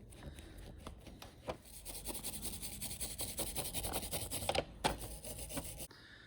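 An aftermarket heated handlebar grip is shaved down by hand to fit a 2015 KTM 1290R, giving a steady, close scraping and rasping with quick rhythmic strokes and a few sharper scrapes, and no talking.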